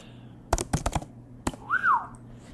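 Fingers type on a computer keyboard in a quick cluster of sharp clicks, then one more keystroke, followed by a short whistled note.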